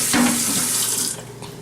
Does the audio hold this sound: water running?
yes